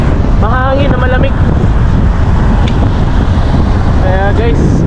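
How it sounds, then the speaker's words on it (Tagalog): Constant gusty, cold wind in a city park in Melbourne, Australia, buffeting the microphone, loud and rough throughout, with a few short voiced bits breaking through. "Ramdam ko lamig eh. Mahangin na malamig."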